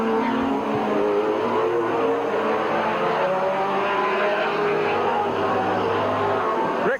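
Race cars at Midvale Speedway, 1985 fall classic, running laps to heat their tires after sitting nearly two hours in the pit; a steady, loud engine drone continues throughout with a low rumbling hum beneath.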